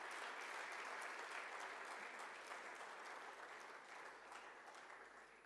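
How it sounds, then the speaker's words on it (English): Audience applause at a university law summit, broad continuous clapping from a large crowd, fairly faint and distant, fading gradually toward the end. "Let us give her a big"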